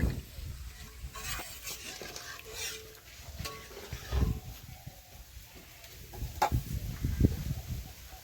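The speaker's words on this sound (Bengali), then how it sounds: "এখন পরিমাণ মতো জল দিয়ে দিচ্ছি" Water poured into a pan of cooked spiced potatoes for a big fish curry, with sizzling and stirring scrapes, intermittent clatters and a soft steady bubbling, close and moderately loud, no talk.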